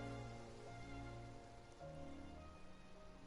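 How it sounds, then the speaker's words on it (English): Rain falling in the Genshin Impact video game, a soft steady patter under faint sustained game music tones, quiet and continuous with no talking. "It rained for longer than I suspected."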